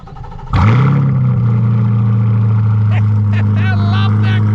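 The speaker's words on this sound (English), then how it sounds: "One thing that's really awesome about a Corvette, and you guys probably already know, it's a remote start." A Chevrolet Corvette engine fires up by remote start with a sudden loud catch, then settles into a deep, steady idle that rumbles on close by while faint voices come through in the background.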